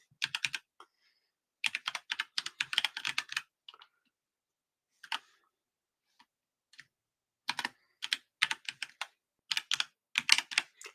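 Bursts of typing on a computer keyboard the owner dislikes, rapid clattering keystrokes in several runs separated by pauses, close and fairly loud with no talk.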